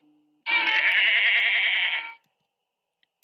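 A single sheep bleats on a farm: one long, wavering, nasal bleat lasting under two seconds, close and loud, with quiet before and after.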